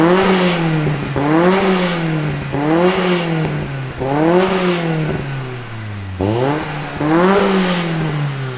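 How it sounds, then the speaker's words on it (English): A 1996 Nissan Silvia S14 (200SX) with an SR20 engine is revved repeatedly, about five sharp rising-and-falling blips close by, the idle dropping back between each rev. "let's do a little sneaky sound clip of what this car sounds like, because the SR20 is one of God's motors"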